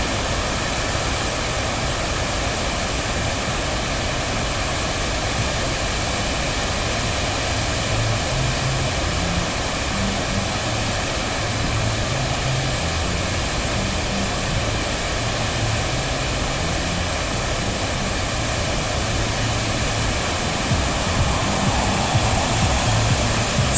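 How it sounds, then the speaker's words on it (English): A waterfall at Mo i Rana rushes in a constant, loud, broadband roar that never lets up, heard close by with no talking. "you can have some moments of peace watching this waterfall."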